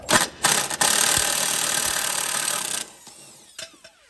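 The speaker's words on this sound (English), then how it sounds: "Probably gonna wanna use a 1/2 inch impact on this." A 1/2 inch impact wrench with a 7/8 socket spins off a nut on top of a damaged wheel spindle assembly, a few short bursts followed by one sustained loud whirring run of about two seconds, then quiet taps.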